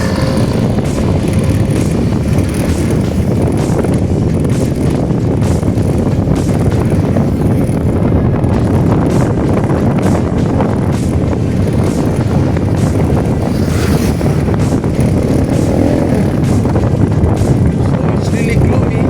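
Steady headwind roaring against the microphone during a road bike ride toward Pamplona on a gloomy day, a loud continuous low-frequency buffeting that fills the whole stretch without letup.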